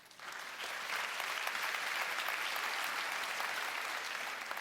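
Steady audience applause at a live gala show in Quebec, a dense wash of many hands clapping that rises quickly and holds even and full for several seconds.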